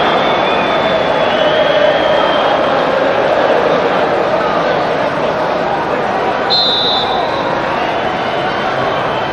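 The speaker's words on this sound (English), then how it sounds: "An expectant crowd, Celtic Park" Football crowd at Celtic Park during a Celtic versus Hibernian league match, a dense, steady roar of many voices filling the stadium, with a commentator talking over it.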